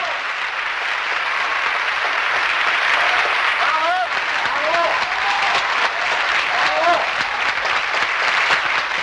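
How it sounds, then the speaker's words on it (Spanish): A theatre audience gives a standing ovation, a dense, sustained roar of applause filling the whole stretch, with a voice talking over it. "el público presente en las salas premia la acción de los actores con una ovación cerrada"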